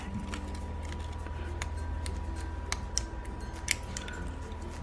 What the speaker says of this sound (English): gonna start and just get to cutting off the edges of my little branding strip here